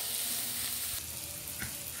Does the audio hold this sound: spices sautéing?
yes